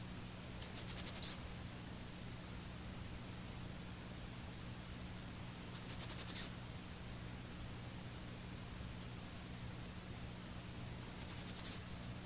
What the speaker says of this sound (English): Here's the yellow warbler one more time.